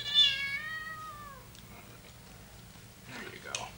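A cat at a veterinary clinic lets out one drawn-out, wavering meow close by, followed by quiet rustling and a brief human voice near the end.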